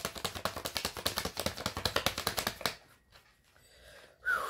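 Tarot cards being shuffled close up, a fast rhythmic run of riffling slaps for nearly three seconds, then quiet handling and a final soft rustle.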